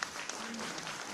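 A short burst of applause from the audience at a GI certificate distribution ceremony in Dehradun, dense clapping that is fairly faint and lasts about a second.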